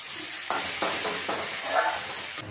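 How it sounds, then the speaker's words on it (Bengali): Spice masala for a fish head curry frying in a pan, with steady sizzling and several soft stirring scrapes at a regular pace and no speech. "মশলাটা এবার একটু কষো"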